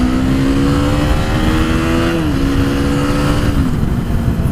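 A KTM Duke 390 single-cylinder motorcycle accelerates hard to overtake two cars on the road. Its loud, close engine note climbs in pitch, dips briefly at a gear change, then climbs again.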